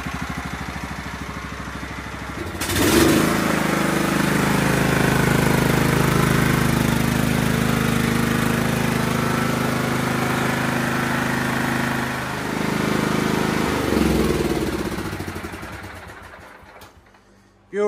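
A Craftsman LT1000 lawn tractor engine idling close by, a steady loud mechanical drone with an abrupt rise at start that holds evenly, then fades near the end.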